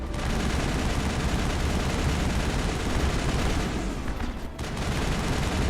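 Sustained gunfire from Inferno rounds in Mass Effect, aimed at Krogan on Virmire, pours out as a dense, continuous rattle of shots at a steady loudness, with a brief dip near the end before the firing resumes.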